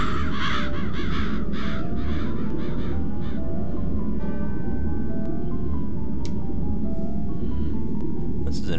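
A crow caws several times in a burst within the Psychonauts video game, harsh repeated calls over a constant low game rumble, tapering off as the ambient background continues.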